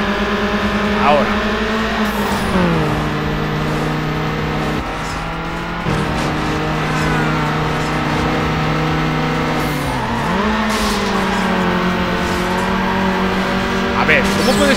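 A Mitsubishi Lancer in Need for Speed Underground races with its engine revving high and shifting pitch, brakes into a corner with tire squeal, then accelerates again, while someone talks over the constant engine drone.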